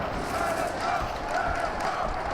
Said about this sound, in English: as the crowd is chanting here